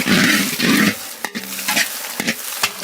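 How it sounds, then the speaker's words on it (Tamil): Onions, cabbage, carrots, capsicums and spring onions fry in a pan for chicken egg fried rice cooked in a village, with loud sizzling broken by scraping stirs and clatter, no talk. "frying everything until the vegetables are tender"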